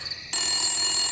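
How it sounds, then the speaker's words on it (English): A telephone bell starts ringing abruptly after a short pause, a loud, bright continuous ring close by with no talking. "everybody's just sitting and listening to the phone ring"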